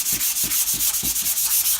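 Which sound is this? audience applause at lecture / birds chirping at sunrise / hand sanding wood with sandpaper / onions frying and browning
hand sanding wood with sandpaper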